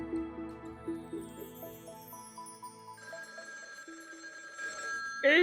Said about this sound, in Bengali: এই সকালে আবার কার ফোন?